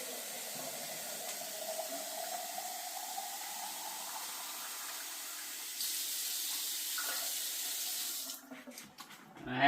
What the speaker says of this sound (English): I'm going to add cold water.